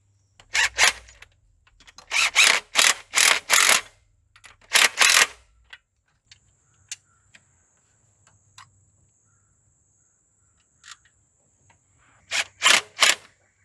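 Metal bolts being fitted onto a carburetor adapter on a 1978 Fairmont, heard as clusters of sharp, close clicks and clinks in bursts, then quiet with faint scattered ticks and a thin whine, and another burst of clatter near the end.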